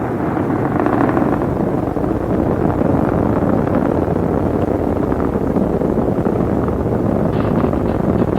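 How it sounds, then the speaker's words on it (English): Space Shuttle Atlantis's three main engines during launch ascent on mission STS-45 produce a dense, continuous roar that stays steady and heavy throughout, with no voices. "Three engines now throttling down as Atlantis prepares to pass through the air of maximum aerodynamic pressure."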